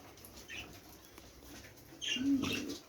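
Pet budgerigars feed and briefly flap their wings, soft rustling flutters with faint chirps close by, the flapping growing louder toward the end.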